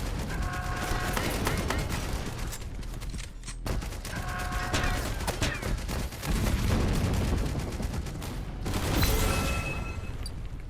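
Auto turret in the Gigantes Ex Machina game firing sustained bursts of rapid gunfire, dense and loud, with short pauses between volleys and mechanical tones underneath; no talk.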